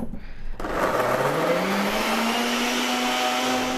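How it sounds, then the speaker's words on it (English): A blender whirs through a detox smoothie, starting with a short burst and then settling into a loud, steady motor roar whose pitch climbs gradually as the ingredients blend. "And then you just mix that all up in the blender."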